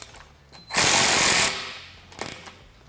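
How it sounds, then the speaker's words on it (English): Power screwdriver or drill tightening screws on a side mirror clamp fitted to a Can-Am Defender cage, one loud continuous buzz lasting under a second, close by, followed by faint clicks. "then I'll go ahead and tighten my screws up."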